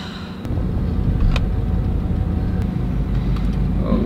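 A van cruises along the road on a long-distance road trip, with a constant low rumble of engine and tires heard from inside the cabin, steady and moderately loud.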